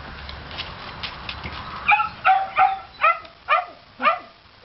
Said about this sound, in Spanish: Esta perra muy joven, ¿eh?